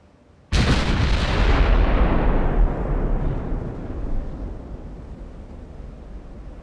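Heavy warship turret guns fire in a naval battle in Ultimate Admiral: Dreadnoughts, one loud sudden blast that booms and rumbles on, slowly fading over several seconds with no talk.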